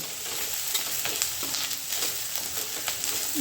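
A ground peanut mixture frying in oil in a pan gives a steady, dense, close sizzle, with faint stirring scrapes scattered through the hiss.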